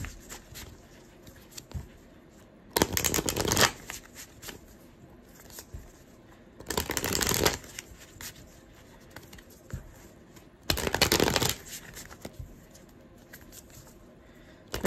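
Angel tarot cards shuffled in three distinct riffling bursts about four seconds apart, close and crisp, with quiet pauses and faint handling rustles between.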